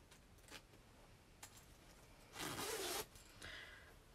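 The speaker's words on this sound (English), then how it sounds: "But I got this jacket. This was, let me just zip it up." A jacket zipper is pulled up in one continuous rasping zip lasting about half a second, close and fairly loud, with a few faint rustles of fabric before and after.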